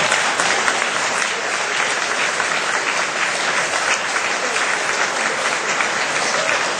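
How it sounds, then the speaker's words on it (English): Steady, dense applause from a standing audience honoring election candidates at a campaign event in Guelph, loud and continuous throughout without letup. "Would everyone please stand and give these brave candidates another round of applause?"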